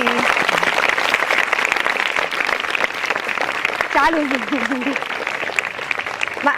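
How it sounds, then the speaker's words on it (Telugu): Schoolchildren clap at a Children's Day celebration at a government girls' high school, a dense, steady patter that runs the whole time beneath voices, with a clearer voice rising briefly partway through. "మరి క్లాప్స్ కొట్టండి"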